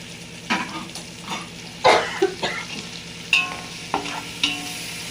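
Coriander and mint frying in a pan with spices while cooking coconut mutton biryani, a soft steady sizzle broken by several short stirring scrapes and clinks at close range.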